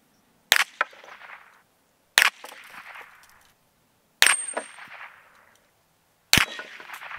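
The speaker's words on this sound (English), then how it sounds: "I'm going to speed run the 22 through the plastic, aluminum, and lead ingots to see how they fare." .22 rounds strike plastic, aluminum and lead ingot targets in four sharp, loud cracks spaced about two seconds apart, each followed by a short metallic ringing decay.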